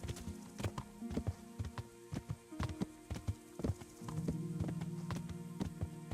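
A horse in Kingdom Come: Deliverance trots along a road, its hooves clip-clopping in a steady, fairly close rhythm, with a low sustained tone joining in toward the end.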